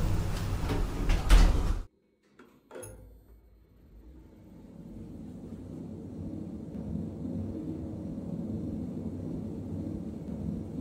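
Elevator doors in a Roblox test tower slide shut with a loud whoosh that ends in an abrupt stop and a brief thud, followed by a quieter steady hum of the running lift.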